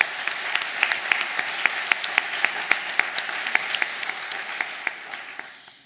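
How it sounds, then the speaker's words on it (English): An audience at a distinguished alumni awards event breaks into applause, a full wash of clapping with sharp individual claps standing out near the front, fading gradually toward the end. "Will you join me in a round of applause for them?"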